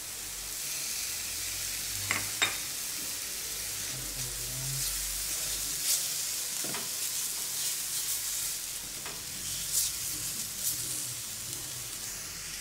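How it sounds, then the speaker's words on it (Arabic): Vegetables and shrimp sizzling as they sauté in a pan, a steady crackling fry with occasional scraping clicks and knocks from stirring, close and continuous with no talk. "نحركو هادشي مزيان، نخليو حتى يطيب"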